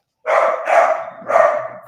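A dog barks three times in quick succession, loud and close, each bark full and forceful, with no talking around it.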